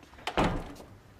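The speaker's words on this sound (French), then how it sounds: "La porte fermée en plus." A door closes with a soft knock then a solid thud, close and brief, fading into quiet room tone.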